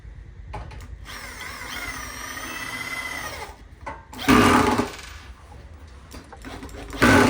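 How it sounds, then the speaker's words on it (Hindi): Electric drill tightening fittings while a Jack sewing machine is assembled: a sustained whirring motor run for a few seconds, then short loud bursts of grinding and screwing, close by. "मैं टाइम बचाने के लिए इसको ड्रिल मशीन से फिट कर रहा हूँ।"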